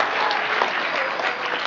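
A school audience at a 4th and 5th grade concert gives a teacher a round of applause, steady dense clapping from many hands heard up close throughout.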